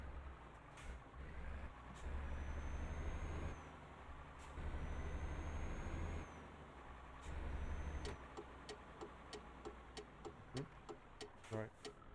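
Mercedes Actros truck in Euro Truck Simulator 2 driving out onto the road between Gdansk and Vaxjo, a steady low engine drone with surges under acceleration, repeated sharp ticks and a brief chirping beep near the end.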